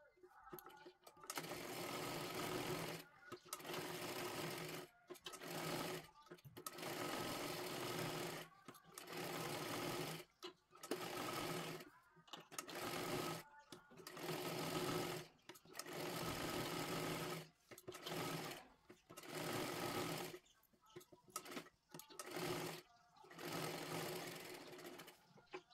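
A sewing machine stitches the lining onto a size 37 three-piece princess-cut blouse in repeated loud runs of a few seconds each. Short pauses fall between the bursts, and a voice talks in the gaps.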